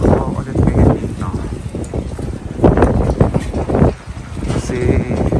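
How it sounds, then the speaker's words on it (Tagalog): Gusty wind buffets the microphone in rough, rumbling bursts at a Copenhagen Christmas market while people talk nearby. "Kasi medyo mahangin naman"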